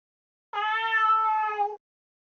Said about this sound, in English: A cat's meow is heard, and a black, bloody cat appears before her.